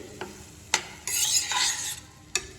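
A spoon scrapes through a tomato, onion and omelette curry in a pan, giving a few quick, close stirring strokes with a brief rasping swirl in the middle and no voices.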